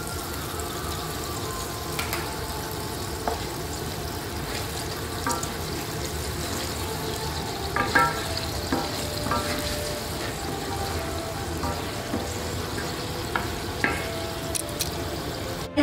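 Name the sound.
stir-frying chili sauce into Gobi Manchurian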